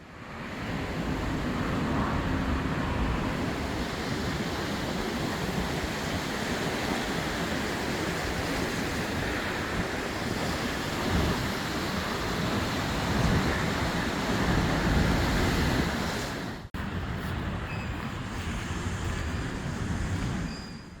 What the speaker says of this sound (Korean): 주변이 모두 몽돌이라서 파도 소리가 아주 상쾌했습니다